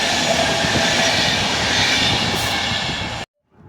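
An Impuls EMU electric train, unit 35WE-009, rolls into Warszawa Włochy station with a loud, steady wheel-and-rail roar. The broadband rumble holds for about three seconds, then cuts off abruptly.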